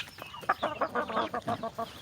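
Chickens cluck in a quick series of short, rhythmic calls, close by and fairly loud, with no talking.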